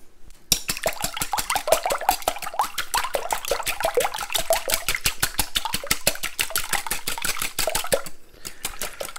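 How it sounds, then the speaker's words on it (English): A whisk beats egg and milk for Yorkshire pudding batter in a bowl, with rapid, steady, evenly spaced metallic clicks and sloshing, close and fairly loud, running without a break for about eight seconds. "we give that a little bit of a whisk, just to get some air in there"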